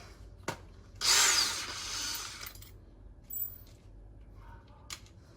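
A power drill whirs in one loud burst lasting about a second and a half, followed by quieter clicks and short mechanical noises.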